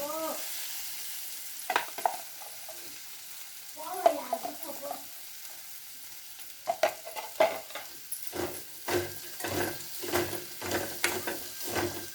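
Flat beans stir-frying in oil with coconut chili powder, soft sizzling under repeated scraping stirs that grow more frequent and rhythmic toward the end, with a brief voice early on.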